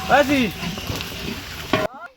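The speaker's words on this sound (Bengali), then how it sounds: "রান্না অলরেডি শুরু হয়ে গেছে" Food cooking in large pots for a big batch gives a close, steady sizzle and frying hiss under a person's voice, which cuts off abruptly near the end.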